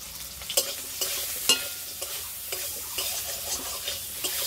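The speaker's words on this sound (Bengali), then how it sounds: "এবার আমি কলাগুলো ভেজে নেব।" Pieces of green banana seasoned with salt and turmeric fry in a pan, a constant oily sizzle punctuated by regular spatula scrapes and taps against the pan roughly every half second, close by with no talking.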